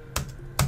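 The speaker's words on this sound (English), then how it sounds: "I'm just going to quickly type something about private labor rights" Two brief bursts of keystrokes on a computer keyboard, close and fairly crisp, separated by a short pause, with no talk over them.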